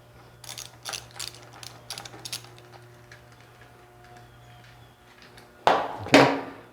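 Ratcheting and clicking of a wrench as a wheel is taken off an Endeavor during a belt change, a run of quick close ticks followed by two louder metallic clunks near the end, with no talking.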